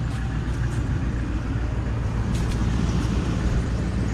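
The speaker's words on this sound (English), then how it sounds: "you can hear the fan over the engine" A car's steady, low engine idle, fitted with a homemade dog-food-can exhaust muffler, drones with a constant whirring cooling fan layered over it, unbroken throughout.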